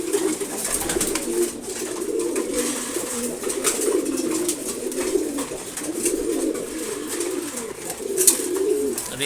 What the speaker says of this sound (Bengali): এখানে আছে হচ্ছে ঘিয়াচুল্লি আর গিরিবাজ, এরা সব মাদি কবুতর